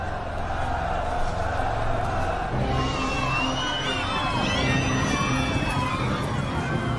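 Crowd cheering, a dense, continuous roar of many voices with shouts and high cries rising over it, loud and sustained throughout.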